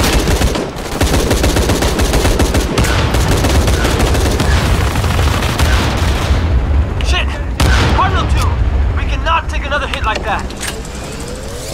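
Rapid gunfire in the video game Shadow of the Tomb Raider at the Porvenir Oil Fields, dense bursts and shots running loud throughout, with players talking over the action.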